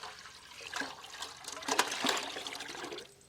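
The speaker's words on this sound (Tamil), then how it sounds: "ஐஸ் வாட்டர் சேர்த்துடலாம்." Ice water is poured into a tender coconut sharbat mixture. The splashing, gurgling pour is close and moderately loud, swells over about three seconds, then tapers off.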